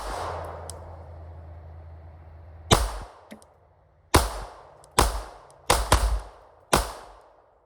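Glock 19 pistol in a modified Roland configuration firing five sharp shots at uneven intervals, each a loud crack with a short decaying tail, after a stretch of low background hum.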